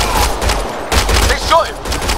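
Gunfire in the video game Mass Effect Andromeda, a rapid burst of loud, close shots in a few clustered volleys, with brief game voice sounds mixed in.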